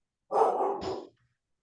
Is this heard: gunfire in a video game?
no